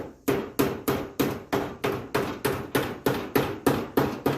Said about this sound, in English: I'm just using the hammer as a dolly, basically, to bring that metal back to where it's supposed to be.